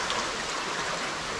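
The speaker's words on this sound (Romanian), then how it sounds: "Vedeți ce fain curge apa?" A stream of water flowing steadily outdoors along a forest trail, a continuous broadband rushing and babbling that stays even and fairly close throughout, with no voices.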